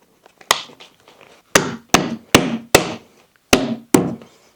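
Seven sharp taps fit a small plastic end cap onto a window blind rail, a lone knock, then a quick run of six close together, each ringing briefly, with no talking.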